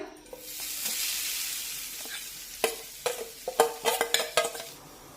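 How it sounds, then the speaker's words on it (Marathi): Freshly grated wet coconut roasts in a pan over low heat, a soft continuous sizzle under sharp scraping strokes of a spoon that come in quick bursts toward the end. "हे खोबरं मंद छानपैकी परतून घेऊया"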